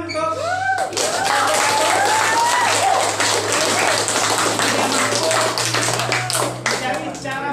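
Classroom applause for a student group, a full burst of many hands clapping steadily for several seconds, with a voice speaking briefly over the start beneath a low steady hum.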